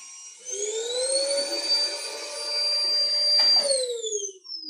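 A Fakir Intra 800 W vacuum cleaner runs at its minimum setting on thick carpet, starting up with a rising whine and then holding a steady, close tonal drone with a brief surge before it tapers off.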